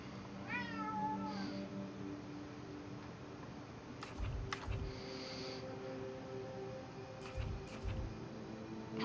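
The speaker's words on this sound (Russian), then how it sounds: "Еще кот орёт." A domestic cat meows loudly, with a drawn-out rising and falling call near the start and several shorter yowls later, close and clear over a steady background hum.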